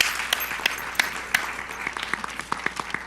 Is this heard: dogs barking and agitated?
no